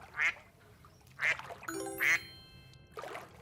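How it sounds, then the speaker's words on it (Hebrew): A cartoon duck quacks four times with even gaps between the calls, clear and close, and a light bell-like chime comes in partway through. "duck"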